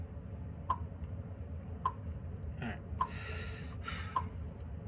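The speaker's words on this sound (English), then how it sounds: "I have the hiccups" Several short, sharp hiccups at fairly regular intervals, close and fairly soft, from a person during a flute lesson, with a few quick breathy sounds between them.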